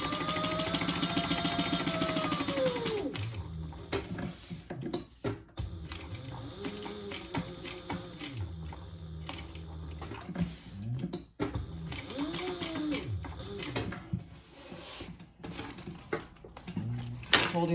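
Household sewing machine running steadily through fabric in a home craft setting, a continuous mechanical whir with brief pauses and restarts, close and fairly loud, with no talking over it.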